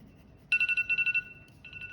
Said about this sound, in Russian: Таймер звонит.